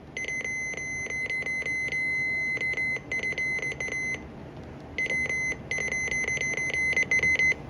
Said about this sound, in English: This is literally what the radio sounds like when it's going off for a test.